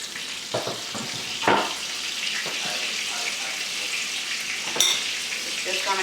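Breaded chicken fries in a pan with a steady, close sizzle and crackle that runs throughout, with a few brief louder spits and pops along the way.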